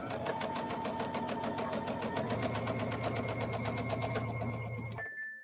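Sewing machine stitching with tension set to 9 and stitch length to 5, a fast, even mechanical rattle of rapid needle strokes running steadily up close, then stopping abruptly near the end.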